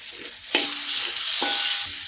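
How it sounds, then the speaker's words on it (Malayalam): Sliced onions and shallots sautéing in hot oil for a Kerala-style pork curry, a close, loud crackling sizzle broken by two sharp scrapes of a spoon stirring the pan. "പിന്നെ നല്ലപോലെ നല്ല ഗോൾഡൻ കളർ ആവണം വരെ വഴറ്റിയെടുക്കുക"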